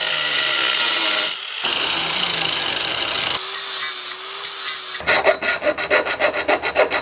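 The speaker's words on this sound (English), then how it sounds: "So I'm just gonna cut off the tacks and then put a coupler here instead." Power tool cutting weld tacks off custom intercooler piping, a loud close grinding whine that drops out briefly, returns with a higher tone, then turns into rapid rhythmic rasping strokes.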